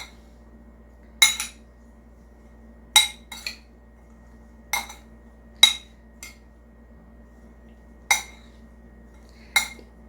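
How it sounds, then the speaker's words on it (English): A spoon stirring strawberries with sugar in a dish: sharp metallic clinks against the bowl, about eight distinct taps spaced irregularly over quiet, no talking. "I'm just going to stir it up"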